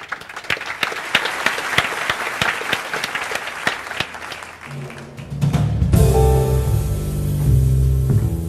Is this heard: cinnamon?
no